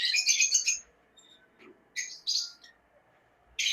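Pet lovebirds and cockatiels at a bird farm give three close bursts of shrill chirping and squawking, separated by quiet pauses.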